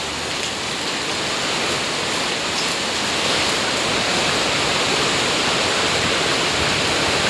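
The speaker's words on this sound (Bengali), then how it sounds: "এত বৃষ্টি হচ্ছে" Heavy rain pours down steadily in a loud, continuous roar that stays even and unbroken throughout, with no voices.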